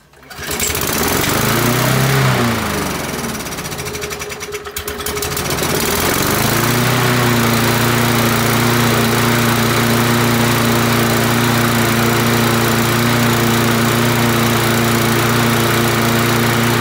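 Briggs and Stratton engine on a Pope lawn mower starting up, sputtering briefly, then settling into a loud, steady close-up running drone with no talk.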